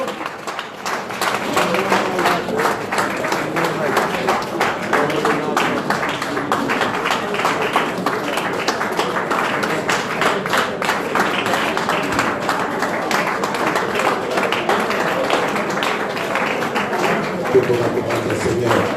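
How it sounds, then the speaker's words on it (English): A congregation claps hands continuously during a church prayer, a dense steady patter under loud praying voices and crowd noise throughout. "Clap your hand and pray."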